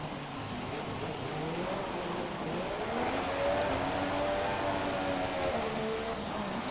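Formula 1 race car in a racing video game at a wet Singapore circuit on dry tires, braking: a steady, loud engine drone whose pitch sweeps and falls, with no one talking.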